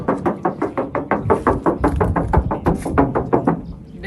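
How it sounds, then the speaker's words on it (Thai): Rapid run of knuckle knocks on the side panel of a Toyota Revo 2.4J 2016 pickup's bed, about twenty steady hollow raps close by, with no talk over them. "ก็ต้องมาเคาะด้านนี้กันด้วย"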